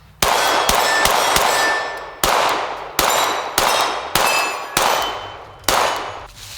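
Shots ring off a steel target in a quick series of about nine sharp metallic clangs, each followed by a long ringing decay, with uneven gaps between hits and no voices.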